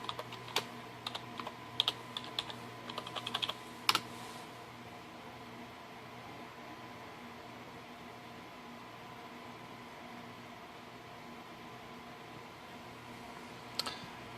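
A password being typed on a computer keyboard during Windows Server 2012 R2 setup: a quick run of close key clicks over a few seconds, a steady fan hum, then one last click much later.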